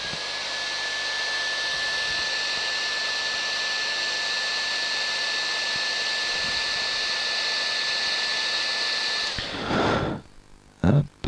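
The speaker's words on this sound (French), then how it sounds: "je mets un petit coup de sèche-cheveux dessus" A hair dryer blowing onto decals on a 1/24 Tamiya Mercedes 300SL model car, a steady, loud whooshing roar with a constant whine that cuts off near the end, followed by brief handling noises.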